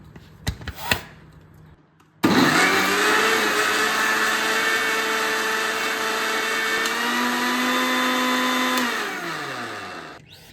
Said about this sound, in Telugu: ఇప్పుడు మూత పెట్టి ఫైన్గా గ్రైండ్ చేసుకుందాం